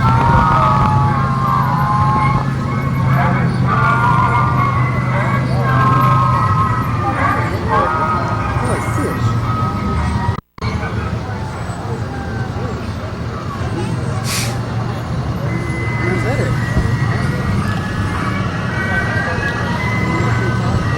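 A Renan Fire Department fire truck rolls through the Altavista Christmas parade, its loud steady siren tone and engine rumble carrying on at close range while people talk nearby.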